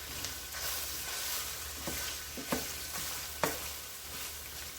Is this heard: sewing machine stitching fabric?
no